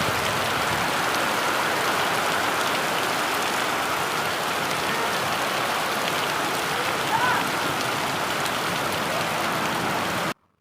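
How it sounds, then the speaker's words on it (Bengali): Heavy night rain falls steadily as a dense, constant wash of hiss, loud and unbroken for about ten seconds before cutting off abruptly. "এই দেখুন রাত্রে কত বৃষ্টি হয়েছে, আপনারা সবাই নিজে দেখে নিন কত বৃষ্টি।"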